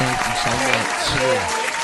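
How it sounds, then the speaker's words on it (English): An audience applauds at a talk show event, steady clapping throughout with a voice speaking over it. "Give her a clap, y'all."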